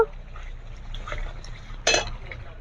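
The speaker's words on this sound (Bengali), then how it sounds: "এবার এর মধ্যে আমি জল দিয়ে দেব" Water splashes into a pan of spiced yogurt-braised katla fish curry in a brief burst near the end, after quieter kitchen clatter and faint liquid sounds, close and moderately soft.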